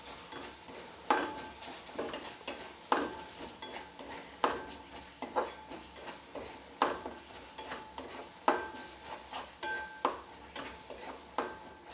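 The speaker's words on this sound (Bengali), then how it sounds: "দিয়ে এটা আবারও ভালোভাবে নেড়ে চেড়ে কষিয়ে নেব" Spatula taps and scrapes in a pan as ground spice mix with coriander powder and kasuri methi is stirred and fried, irregular clinks repeating every second or so over a faint, quiet sizzle.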